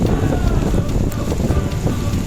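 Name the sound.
heavy rain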